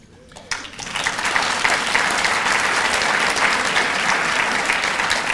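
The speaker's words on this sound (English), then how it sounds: "John sets the tone right away with some applause off the top." Applause at an arts gala swells quickly from quiet and holds as a loud, continuous roar of many hands clapping for several seconds.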